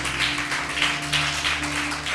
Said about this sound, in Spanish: Bendecile con un fuerte aplauso si le estás creyendo.